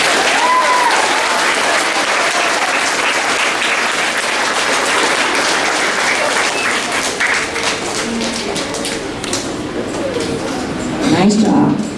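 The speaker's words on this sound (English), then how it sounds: "Let's give them a round of applause." Crowd applause at a 2023 school awards assembly, dense and steady from the start and gradually thinning, with a few voices and small noises mixed in near the end.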